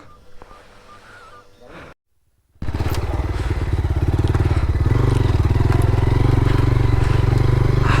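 Several motorbikes climb a slippery, broken hill road toward Sukhia Valley near Lama and Alikadam. A low rumble cuts to a brief silence, then a loud, close engine drone rises and holds steady to the end.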